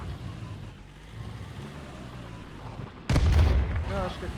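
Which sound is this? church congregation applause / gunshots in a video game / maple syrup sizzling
gunshots in a video game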